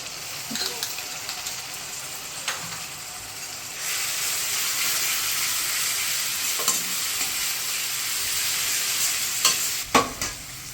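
Ginger garlic paste and whole garam masala fry in a pan, a soft crackle that swells into a steady loud sizzle, broken by a few sharp stirring knocks and scrapes near the end.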